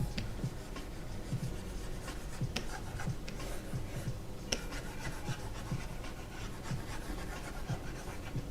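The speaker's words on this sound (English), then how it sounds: "I'm drawing for fun." Pencil or pen drawing cars by hand on paper, a continuous soft scratching and rubbing close by with small rhythmic strokes, steady and quiet throughout.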